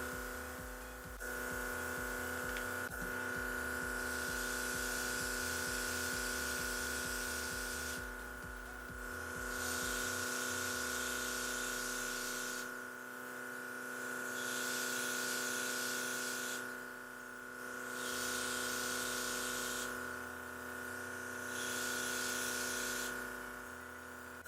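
Airbrush spraying Color Opalescent makeup onto eyelids: a steady electric compressor hum and buzz runs throughout, with bursts of hissing spray that start and stop repeatedly, close and fairly loud.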